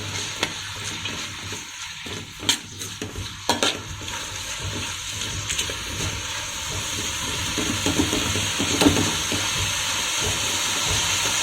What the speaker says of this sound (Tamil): வெங்காயம் நல்லா ப்ரௌனாக வரணும்,